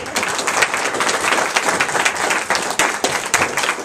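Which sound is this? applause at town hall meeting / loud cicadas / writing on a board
applause at town hall meeting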